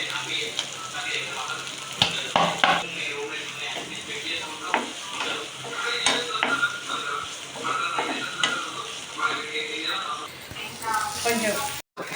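Cumin seeds and green chillies crackle and sizzle in hot oil for an egg fry, with stirring clatter and occasional pan knocks while a voice talks over the cooking.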